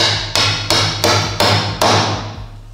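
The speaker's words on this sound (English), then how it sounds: "Now I got the hammer and this." A hammer taps a threaded insert into a 3D-printed part with five sharp, loud knocks at a fairly even pace over a low steady hum, each hit leaving a short decaying ring, close by and without speech.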